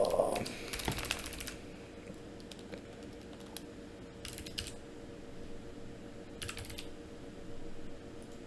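Typing on a computer keyboard during an at-home math lesson: a quick burst of clustered key clicks at the start, then sparse, scattered taps at moderate level over a steady low room hum.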